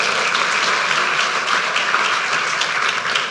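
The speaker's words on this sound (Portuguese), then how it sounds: "Aplauda ao Senhor." A church congregation applauds steadily throughout, a dense, continuous wash of many hands clapping at close range with no pauses.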